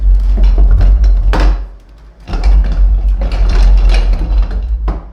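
A TriStar vacuum cleaner runs on a bare floor with a loud, close, steady roar and deep rumble, dropping away briefly before surging back up.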